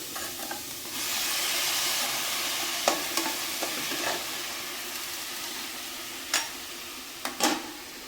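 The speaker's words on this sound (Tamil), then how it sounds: "இப்போ நம்ம தக்காளியும் பச்சை மிளகாய் அரிஞ்சு வச்சோம்ல அதை சேர்த்துவோம்" Chopped tomatoes and green chillies added to a pan for chicken gravy, a steady hissing sizzle with scattered scraping and clinking stir strokes close by.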